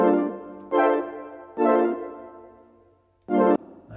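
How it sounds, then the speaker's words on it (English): A chord progression from a hip-hop beat built on a sample flip plays as four separate sustained synth or keyboard chords, each starting sharply and fading, spaced across a few seconds and heard clearly without talk. "right now I'm playing you the chord progression."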